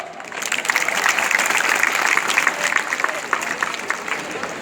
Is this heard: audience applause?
yes